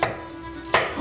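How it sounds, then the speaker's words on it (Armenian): A knife chops through peeled pumpkin on a board, two crisp close cuts about a second apart. "Եվ կտրատենք"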